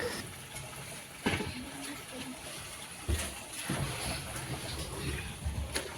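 Borewell water gushing and splashing into pots and containers outdoors, a steady rushing flow with a few louder splashes and knocks, and faint voices in the background.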